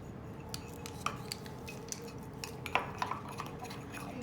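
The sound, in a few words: whisking egg and sugar cake batter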